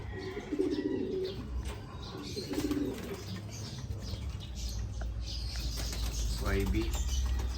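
Racing pigeons, young birds in training, cooing softly with occasional wing flaps, a steady low murmur of coos and rustling under faint background noise.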